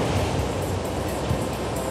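Ocean surf rolls in at Sunset Beach (Paumalu) on Hawaii's coast under winter swell, a dense continuous wash of breaking waves heard alone without voices.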